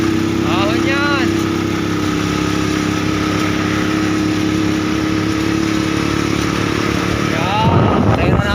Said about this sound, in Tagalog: Patayin mo natin ang motor.